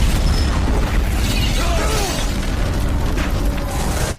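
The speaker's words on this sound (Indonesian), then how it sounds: "mobil sang jenderal pun meledak" A general's car explodes in a film scene, a loud, sustained blast with rumbling debris that fills the whole moment before cutting off abruptly at the end.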